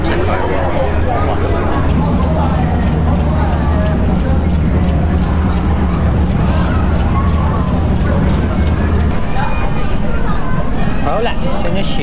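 A Hong Kong cross-harbour ferry pulling away, its low engine rumble droning beneath constant nearby chatter of passengers before fading near the end.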